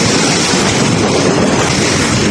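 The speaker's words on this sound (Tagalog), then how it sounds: "pag kay bumangga yung alon dito sa gutter guys, lakas ng impact sa amin sa bahay" Ocean waves pounding against a house gutter at night during a tidal surge, a loud, continuous roaring wash of water with no break through the whole stretch.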